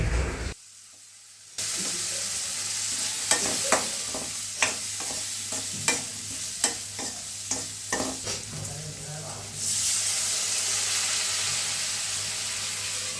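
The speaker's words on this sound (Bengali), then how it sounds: "আলুটাই প্রথমে একটুখানি দিয়ে ভেজে মানে একটু কষিয়ে সিদ্ধ করে নিলাম" Potatoes fry in a pan with salt and turmeric, giving a steady sizzle broken by a regular run of sharp spatula taps and scrapes; the hiss swells louder near the end, with no voices.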